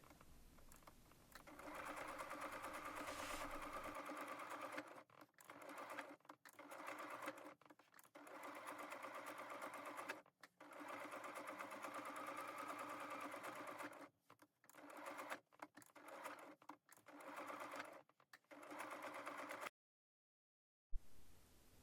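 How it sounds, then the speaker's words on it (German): A sewing machine stitches the seam of a fabric gift bag with Christmas motifs, its motor whirring steadily in long runs broken by brief stops, close and clear, before falling silent at the end. "etwas über den Anfang hinweg nähen und die Naht verriegeln"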